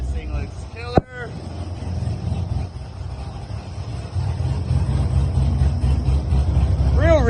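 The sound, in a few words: engine of a tuned drift car running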